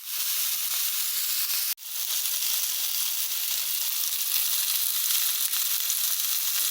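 Pan-fried piri-piri chicken sizzling in a frying pan, a loud continuous hiss and sputter close up, briefly cut off once, with no speech.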